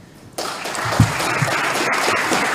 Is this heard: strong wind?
no